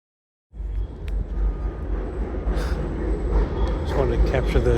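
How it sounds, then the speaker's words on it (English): A truck passes by at a distance along a suburban road, its broad engine and tire rumble rising steadily from silence and holding under some faint background sounds. "Just wanted to capture the sound of the train. You can barely see it going by. Oh wait, no, it's just a truck."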